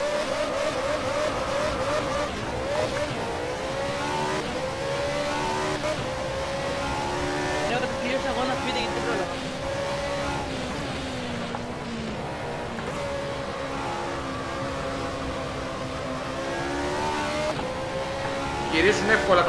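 F3000 race cars from Race 07 rev and accelerate off the start in a loud, continuous engine drone with shifting pitch and occasional tire noise, while someone talks throughout.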